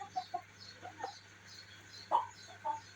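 Sussex hens out in a yard by their coop, soft scattered clucks and short calls at a distance, quiet with gaps between.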